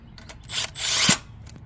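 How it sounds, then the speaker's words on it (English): Bolts are tightened with a ratcheting wrench on a Honda GX160 small engine being reassembled, a quick, close series of clicking ratchet strokes with a short scraping rub, no talk. "And bolt them down."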